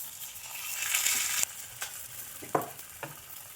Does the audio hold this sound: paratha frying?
yes